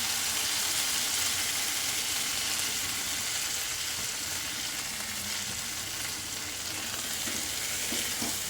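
Grated fresh corn hitting hot oil with a little turmeric, giving a loud, dense and steady frying hiss that stays close and continuous throughout, with no talking.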